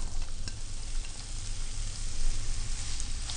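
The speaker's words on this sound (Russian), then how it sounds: "Помещаем туда лук." Steady, dense sizzling and crackling of onion frying in hot sunflower oil, loud and continuous with no voices.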